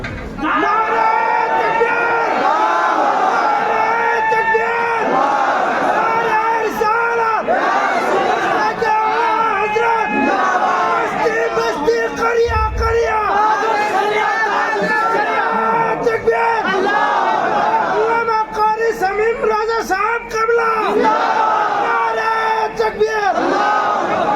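Large crowd at a religious gathering shouting takbir in loud collective waves, with rhythmic massed chanting and yelling surging repeatedly over about twenty seconds.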